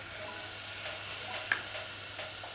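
Rice added to a hot pan sizzles steadily, a bright continuous frying hiss with a few small ticks and one sharp clink near the middle, close, no talk.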